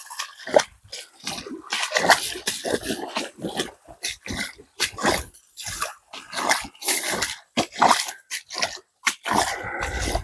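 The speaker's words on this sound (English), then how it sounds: "Denali and Millie, the gold sniffing dog." A gold-sniffing dog snuffles and sniffs in short, irregular bursts close to the microphone, with occasional crunching and scraping sounds between the sniffs, while bedrock is busted for gold.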